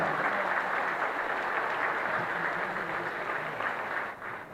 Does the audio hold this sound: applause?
yes